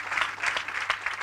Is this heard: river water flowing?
no